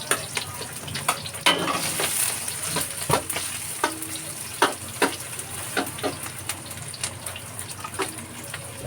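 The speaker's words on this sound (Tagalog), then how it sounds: "Okay, mainit na mantika ha. Magigisa na ako. Bawang, sibuyas." Garlic and onion hit hot cooking oil in a pan while pork with sotanghon and patola is being prepared. A steady sizzle runs throughout, broken by clinks and scraping stirs, with no voices.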